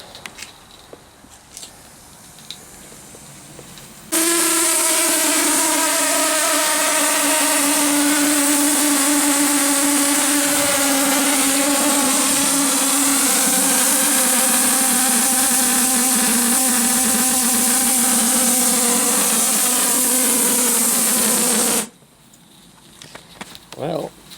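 A miniature steam locomotive, a SAR class 15F, runs with a steady mechanical roar that starts abruptly, holds loud and constant for nearly twenty seconds, then cuts off, leaving quieter background sounds.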